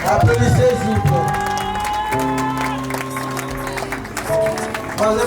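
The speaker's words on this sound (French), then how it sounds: "Applaudissez s'il vous plaît." Wedding guests at a Congolese ceremony applaud together, a crowd of clapping and cheering close by, mixed with voices and a sustained musical tone in the background.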